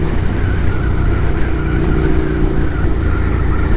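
A Ducati Scrambler motorcycle on a ride home, its engine a loud, steady drone with wind rumble, continuous throughout and close to the mic.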